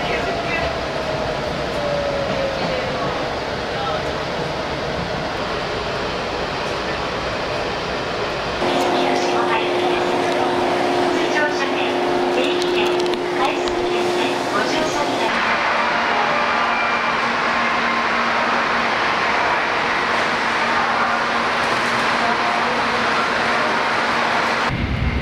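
Ride aboard an Izu Kyuko local train on the east Izu coast: a steady rumble and rolling noise of the carriage runs throughout, with a faint tonal whine at points and no clear speech.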